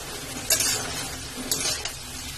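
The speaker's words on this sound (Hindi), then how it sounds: "अब इसको अच्छी तरह से मिक्स कर लेना है" Potato and pointed gourd curry being stirred in a pan, with a soft steady sizzle and a few sharp scrapes of a spoon against the metal, close and fairly quiet with no talk.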